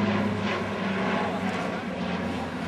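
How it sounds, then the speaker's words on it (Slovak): A Spartan military transport aircraft roars steadily as it flies a tight, minimum-radius turn at a national airshow in Piešťany, its engine drone loud and continuous. "A teraz nám posádka lietadla Spartan predvádza zatáčku s minimálnym polomerom"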